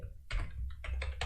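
Code being typed on a computer keyboard: a short burst of four or five crisp, close key clacks in quick, uneven succession, with no talking.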